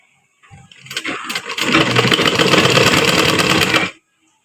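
A sewing machine stitching fabric revs up briefly, then runs in one loud, steady, close burst for about two seconds before stopping abruptly.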